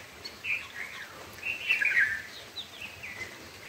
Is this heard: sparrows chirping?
yes